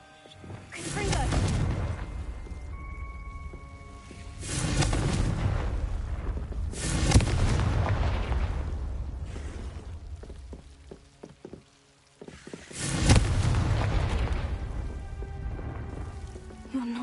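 Confringo spell explosions in Hogwarts Legacy, with several booming, rumbling blasts that swell and decay in a fiery crackle, repeating at intervals under a continuous game ambience.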